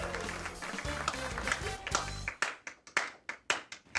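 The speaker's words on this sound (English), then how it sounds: "Very loud clap." A single loud hand clap cracks out at a live esports match, the LCS Summer Playoffs, followed by several sharp clapping bursts after a stretch of busy crowd and talk.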